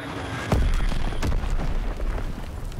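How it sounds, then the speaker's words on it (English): A bomb explodes in the Call of Duty WWII open beta on the Gibraltar Hardpoint map, a sharp deep boom followed by sustained rumbling battle noise and further thuds, loud and close throughout. "Enemy bomb incoming."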